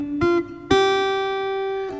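Instrument played through a Zoom A1 Four multi-effects pedal with reverb engaged: a short plucked note, then a second sustained note that rings out with a long reverberant tail fading slowly, close and clear, no voices.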